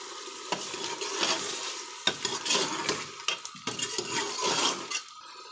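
Masala with green chillies fries in a pan for a leftover curry dish, giving a close, lively sizzle broken by repeated stirring and scraping strokes of a spoon, with no voices.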